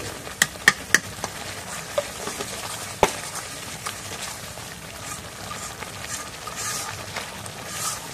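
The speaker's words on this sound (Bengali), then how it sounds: "মশলাটা এখন কষানি হয়েছে" Spice paste with chili powder and salt fries in a pan while being stirred, a continuous soft sizzle broken by several sharp clicks of the utensil against the pan early on, close up with no voices.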